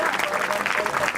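At an alumni meet, an audience breaks into a brief, dense burst of applause to welcome a speaker, steady clapping filling the room.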